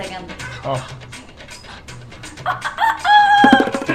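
A person mimics a chicken, giving a short burst of clucking and crowing-like calls with other voices talking around it.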